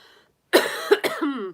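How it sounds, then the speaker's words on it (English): After a brief quiet moment, a person coughs twice in quick succession, close and fairly loud, ending with a throaty rasp. "Still dealing with the coughing."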